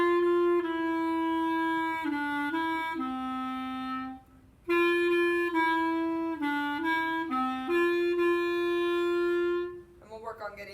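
Solo clarinet plays the first clarinet part, a steady melodic phrase of held and stepping notes, repeated twice with a short pause between, followed by a voice talking.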